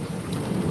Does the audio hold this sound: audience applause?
no